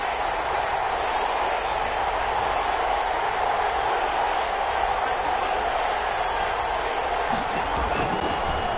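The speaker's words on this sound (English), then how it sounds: "the crowd getting into it as we come up on a big third down" A stadium crowd roars in a football video game with a sustained, broad cheer that swells slightly near the end, while a commentator's voice can be heard faintly over it.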